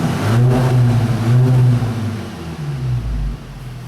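A 2011 Volkswagen GTI with an aftermarket exhaust, engine not fully warmed up, revving up in strong near bursts and then dropping back toward a low idle, alone without talk.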